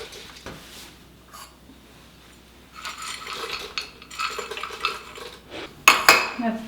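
Nuts tipped and rattling into a kitchen container while being weighed for wild garlic pesto, with scattered clinks and a sharp clatter near the end, fairly close and without voices.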